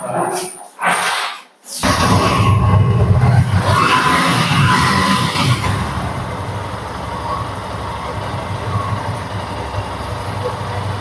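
A second-hand Yamaha FZ V2 motorcycle with an untouched engine runs close by, a steady rumbling idle that starts after a couple of brief dropouts and holds loud and even.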